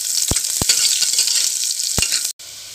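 Garlic and green chillies fry in oil for savoury daliya, a bright, continuous close sizzle broken by a few stirring knocks, then a sudden brief cutoff near the end.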